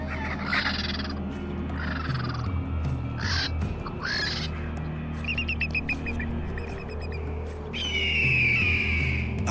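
Scavenging birds squabbling over a carcass in a snowy Yellowstone winter, with harsh crow-like caws and honking calls in bursts over a steady low rumble.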